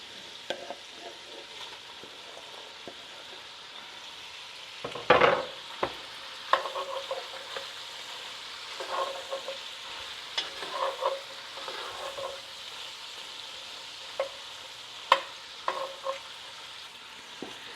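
Browned sausage and andouille frying in a pan with vegetables just added: a soft continuous sizzle broken by scattered scrapes and clatters of stirring, close by and without talk.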